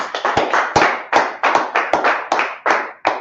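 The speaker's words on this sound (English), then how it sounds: "clap it up for the class." A group claps in unison at a gathering, about a dozen sharp, rhythmic synchronized claps ringing out close and loud in a steady beat.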